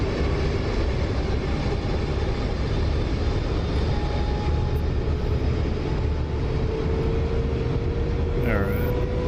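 An F-35B jet engine is pushed to full power in a DCS flight simulation, a loud dense continuous roar that holds steady throughout, with a brief tonal chirp near the end.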